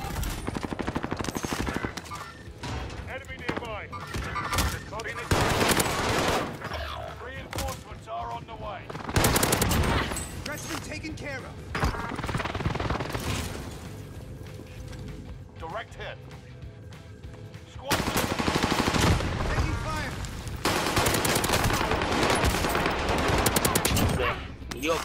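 Loud gunfire crackles in bursts during a Warzone match, with sniper shots among rapid volleys that come and go while players talk excitedly over them.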